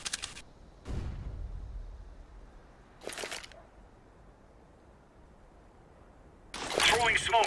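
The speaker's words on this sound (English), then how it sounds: "Flashbang." A flashbang grenade detonates in a video game as a sharp, loud burst that decays into a low rumble, with further bursts and clatter later and voices calling out around it.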